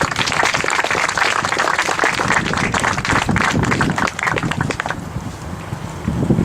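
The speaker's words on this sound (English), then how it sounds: "let's give him a clap" Audience applause at a school groundbreaking ceremony, loud and sustained clapping from a crowd outdoors with some wind noise, easing off toward the end.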